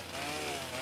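Chainsaw buzzing as it chops a diamond tree in the video game 99 Nights in the Forest, a short, steady, rough motor whine heard close and alone.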